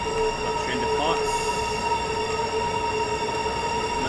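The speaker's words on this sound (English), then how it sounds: "That train departs." High-speed Southeastern train departing St. Pancras station in Train Sim World 2: a continuous rail rumble with steady tonal whine and a brief rising squeal, heard from close by throughout.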